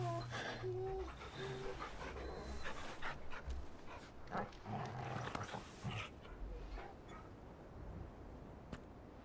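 Torgal, a large dog in Final Fantasy 16, pants and whimpers softly under music and faint voices, with rough breaths coming in uneven bursts.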